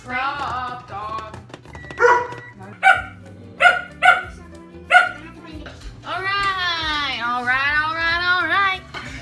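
A dog barks in a home kitchen during cookie baking, five sharp separate barks spaced about a second apart, mixed with a child's babbling and adult talk, followed by a longer run of high whining yelps.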